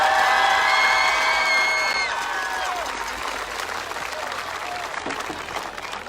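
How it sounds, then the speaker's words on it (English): Applause and cheering from a crowd greeting the homecoming king and queen at a high school homecoming football event, loud and continuous with whoops at first, then settling into steady clapping. "let's give a big round of applause to your homecoming royalty"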